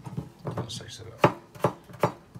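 Knife chopping through potato on a cutting board for boulanger potatoes: a few irregular soft taps early, then four sharp, distinct chops spaced about half a second apart, close and clear with no talking.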